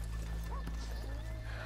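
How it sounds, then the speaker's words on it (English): Horses in the video game Red Dead Redemption 2 clip-clop steadily on a street while one gives a short whinny, under a low ambient hum. "let's leave the horses here off the main drag"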